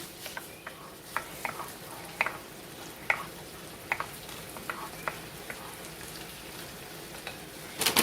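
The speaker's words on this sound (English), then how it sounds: "Put 3/4 of a cup of minute rice in there. Stir that in." Three-quarters of a cup of minute rice is stirred into a pot for a one-pot garlic chicken, broccoli and rice casserole. A spoon ticks in a steady rhythm over a faint sizzle, ending in a brief louder clatter.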